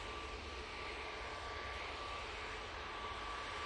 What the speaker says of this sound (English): Ryanair 737 MAX 8.